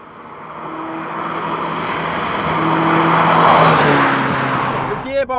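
A Michelotto Ferrari 308 Group B rally car engine revs and approaches, growing louder into a rasping exhaust roar before passing close by and shifting at the end.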